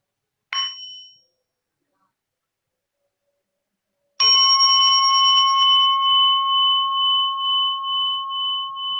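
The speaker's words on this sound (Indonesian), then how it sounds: "Jadi mari kita sama-sama menikmati suara lonceng satu kali." A single struck bell rings out clearly and sustains with a long, shimmering decay, preceded by a brief faint tap a few seconds earlier.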